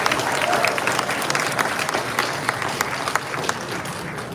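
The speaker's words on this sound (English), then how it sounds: "let's give a big round of applause for that" A crowd at a ribbon-cutting ceremony applauds steadily, a dense wash of clapping that stays loud throughout and tapers only slightly, with a few voices faintly beneath.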